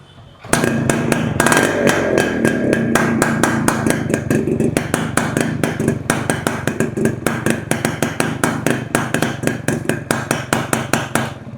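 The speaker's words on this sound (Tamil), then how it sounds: "எக்ஸாஸ்ட் நோட் கேளுங்க, ரொம்ப ஷார்ப்பாகவே இருக்கும்" A Yamaha RX135 two-stroke motorcycle with a custom inbuilt exhaust chamber revs up nearby, its sharp exhaust note rising loudly then settling into rapid pulsing, crackling bursts, with no talking.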